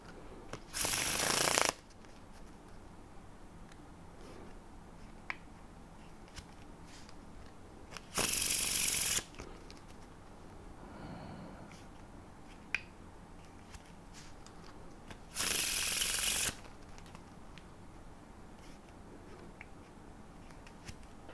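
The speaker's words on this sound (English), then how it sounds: "that Faro Shuffle sounded so bad" A deck of playing cards riffled in a faro shuffle. Three short, loud bursts of riffling come about seven seconds apart, with quiet room tone between them.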